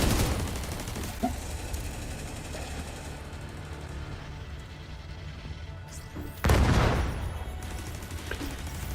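In a video game, a deployed turret keeps up rapid, continuous gunfire at enemies amid battle noise, with a heavier crashing blast partway through and no talking.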